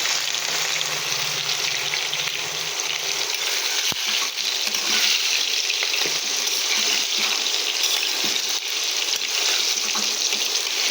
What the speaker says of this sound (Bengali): দিয়ে এটাকে সুন্দরভাবে আমি ভেজে নেবো লাল লাল করে।